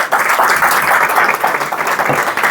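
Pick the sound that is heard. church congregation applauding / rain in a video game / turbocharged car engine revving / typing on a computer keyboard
church congregation applauding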